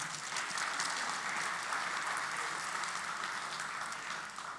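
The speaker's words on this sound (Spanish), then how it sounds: "quiero que los recibas con un aplauso a estos voluntarios" Sustained audience applause welcoming volunteers at a gathering, a steady wash of clapping hands that holds evenly throughout without a break.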